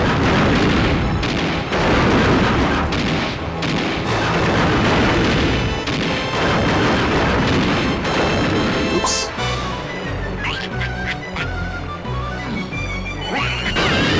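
Armydillo boss fight in the video game Donkey Kong 64, with loud, dense crashing and booming blasts of shots and impacts over game music, the pounding continuing throughout and shifting into a rhythmic low thumping in the latter half.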